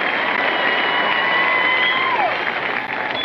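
Steady audience applause for a country singer at a tribute award presentation. It runs continuously at moderate loudness, with a faint tone drifting through it.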